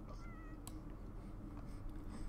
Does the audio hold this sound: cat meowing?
yes